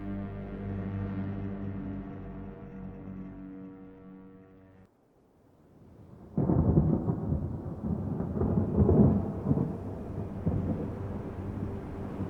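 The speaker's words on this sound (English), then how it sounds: "Rain fell that day" Deep rolling thunder rumbles, fades to near silence, then a louder crack and long rumble return over a steady wash of rain.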